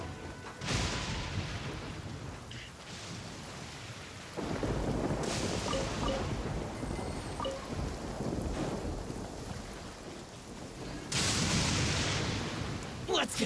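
Thunderstorm in the Genshin Impact video game: steady heavy rain with several loud thunder cracks and rumbles, bright lightning-strike bursts at intervals, close and full, with no talk.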